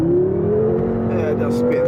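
BMW M6 Gran Coupe accelerates hard with its wheels spinning, a loud engine note climbing steadily in pitch with a faint tyre squeal near the end, heard close from inside the car.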